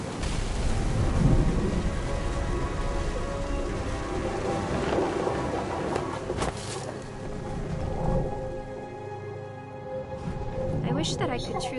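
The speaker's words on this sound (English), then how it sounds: "Thunder sounded much too close and full of angry power." Thunder rolls and rumbles through a heavy rainstorm in the game What Remains of Edith Finch, deep booming peaks over a constant rain hiss, with a voice narrating over the storm throughout.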